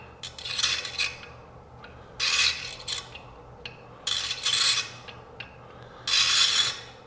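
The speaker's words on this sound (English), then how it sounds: "Luckily I have a dye, the proper dye. I'm just going to give it a chase." A proper threading die chasing out the metal threads on a grinding wheel arbor, four long harsh rasping strokes with short pauses between, close and loud, no talking.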